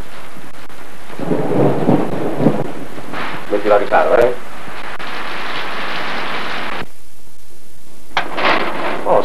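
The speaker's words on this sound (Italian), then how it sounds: "Oh, signorina, dove andate con questa pioggia?" Heavy rain hisses steadily through a film scene while rolling thunder rumbles loudly in several waves, with a voice speaking briefly over the storm.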